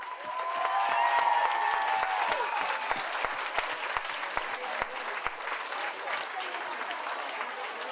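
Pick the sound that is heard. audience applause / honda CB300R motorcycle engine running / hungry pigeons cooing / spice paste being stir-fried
audience applause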